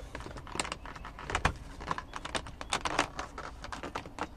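A plastic interior trim panel on a Lexus SC300 is pulled from the bottom and pops free of its clips, producing a quick run of close, sharp plastic clicks and rattles.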